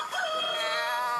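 A rooster crows once at close range, a clear drawn-out cock-a-doodle-doo that rises and holds as a bright harmonic call, heard alone with no talk.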